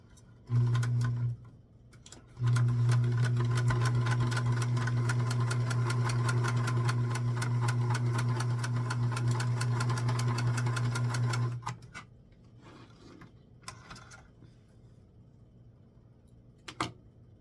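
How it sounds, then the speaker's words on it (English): A sewing machine running a straight stitch on a dress: a fast, steady mechanical whirr and needle clatter lasting about nine seconds after a short start, then stopping, followed by quiet handling noises and no talk. "I'm going to go back to the straight stitch."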